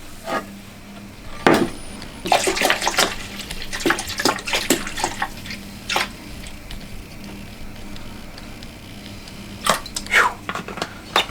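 Spiced rum is poured over vanilla beans in a container, splashing and gurgling in uneven bursts with clinks and bottle knocks, close and fairly loud, with a second pouring burst near the end.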